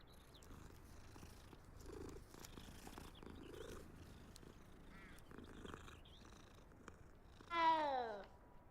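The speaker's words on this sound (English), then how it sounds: "Yeah, pet the cat again." A cat purring in Hogwarts Legacy as it is petted, a low steady purr running quietly through the clip before a brief, louder meow-like cry near the end.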